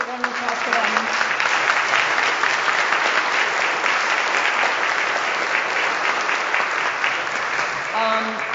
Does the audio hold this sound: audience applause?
yes